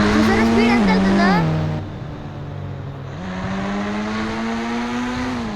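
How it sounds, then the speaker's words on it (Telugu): A sports car engine in a racing video game revs loudly, rising in pitch as it accelerates, dipping briefly and climbing again in a steady, close, continuous roar with no talk. "స్పోర్ట్స్ కార్ అంటే ఇలాగే వెళ్తున్నాయి"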